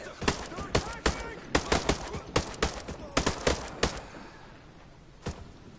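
Squad gunfire in the video game Ghost Recon Breakpoint: a rapid, loud volley of a dozen or so sharp shots over about four seconds, then a brief lull and one final isolated shot.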